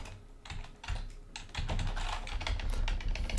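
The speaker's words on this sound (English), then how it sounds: "gotta start typing right" Typing on a computer keyboard during React coding work, a quick run of close, clicky keystrokes that starts sparse and grows denser and steadier, with no talk.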